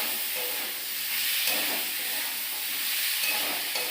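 Potatoes boil in a pot of water, giving off a steady, close, fairly loud hiss of steam and bubbling that continues without a break.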